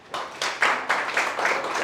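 An audience claps in a classroom or lecture hall, a burst of applause rising quickly and holding steady with scattered individual claps audible throughout, fairly close and with no talking over it.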